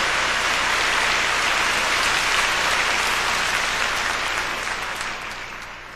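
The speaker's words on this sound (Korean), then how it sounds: "우리 격려하는 박수 한번 치십시다." A church congregation gives a sustained round of encouraging applause during a pastor's testimony about heaven, a dense wash of many hands clapping that fades slightly toward the end.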